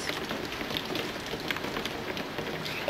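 Steady rain patters on a surface in Scotland during a thunderstorm, a continuous close hiss of drops with no voices.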